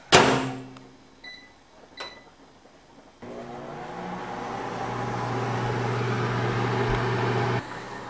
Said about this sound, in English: While the hot dogs are in the microwave